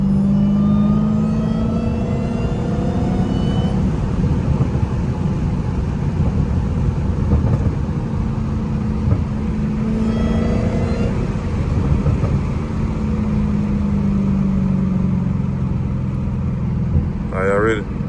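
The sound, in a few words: muscle car engine revving while downshifting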